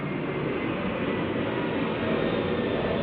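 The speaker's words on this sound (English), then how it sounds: "Military plane over the roof." A military plane passes low over a house roof, making a loud, steady broadband roar that holds for the whole stretch without fading.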